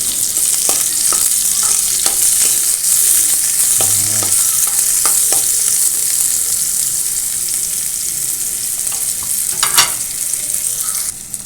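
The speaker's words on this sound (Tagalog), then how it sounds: "Mainit na yung mantika, lagayan natin yung bawang. Tapos sibuyas." Garlic and onion fry in hot oil with a steady, close sizzle that runs the whole time, broken by a few scrapes and taps of stirring as shrimp dish preparation begins.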